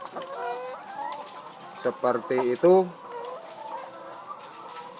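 Laying hens on an egg farm, some with a snoring respiratory illness, cluck and call steadily in the background, with a louder burst of bird calls midway, while a person speaks briefly near the end.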